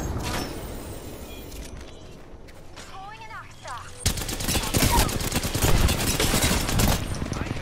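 Gunfire in a shooting video game: a quieter stretch gives way to dense, rapid bursts of shots that run on for several seconds, with voices talking alongside.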